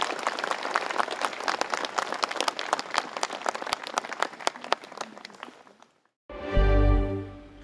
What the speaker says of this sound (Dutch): Met 2 minuten stilte en applaus voor Tim.